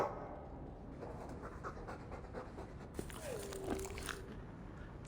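A Mabari war dog in the Dragon Age II video game pants steadily amid game ambience and bites with a crunch, while a sweeping tonal game effect rises briefly near the end.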